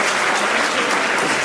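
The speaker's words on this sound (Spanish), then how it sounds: "Creo que les podemos brindar otro fuerte aplauso, ¿verdad?" An audience at a mental health and wellbeing congress applauds steadily, a dense, even wash of clapping from many hands that fills the whole short stretch.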